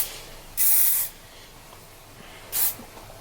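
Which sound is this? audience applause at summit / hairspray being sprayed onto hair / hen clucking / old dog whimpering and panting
hairspray being sprayed onto hair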